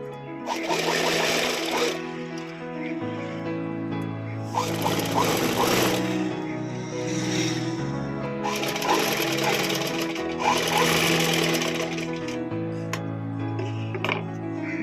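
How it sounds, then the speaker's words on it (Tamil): Sewing machine stitching around the lining cloth of a silk saree being made into a long frock, running in steady bursts with short pauses, loud and close throughout. "இப்போ இந்த லைனிங் கிளாத் இருக்கு இல்லைங்களா, இதை சுற்றி வந்து நம்ம ஒரு தையல்"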